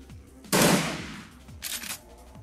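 Gunfire in the tactical role-playing video game Shadowrun Returns: a loud burst of shots erupts, then a second, shorter burst follows, with quiet game ambience in between.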